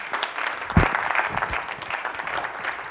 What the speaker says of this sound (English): Let's give a warm round of applause for Dr.